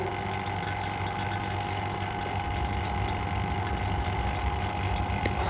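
A vacuum pump runs steadily while evacuating a refrigerator's refrigeration system, giving a continuous mechanical hum with a steady buzzing drone, close and unbroken, with no talking.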